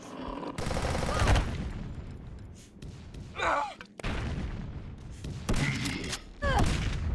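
An SMG fires in bursts in the retro shooter Zortch, with loud rapid rattles broken by short pauses and a few swooping effects, while someone speaks between the volleys.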